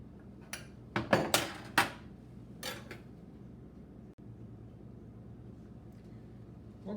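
A knife slicing through boiled potatoes gives a quick run of crisp cuts and taps, a handful close together and a couple more after a pause, then quiet room tone.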